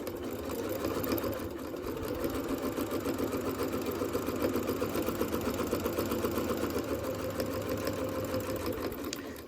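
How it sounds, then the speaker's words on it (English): Sewing machine running steadily as it stitches a fabric coaster, a continuous fast whirring hum with an even mechanical rhythm throughout, close and moderately loud with no talking. "just sew all the way down like that, and I'm just going to do one stitch across the end"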